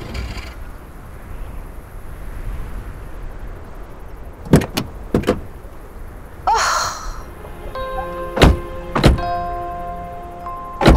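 A car comes to a halt on a road. Constant engine and road rumble runs underneath several sharp thunks and a door-like clunk, close and fairly loud, with no speech.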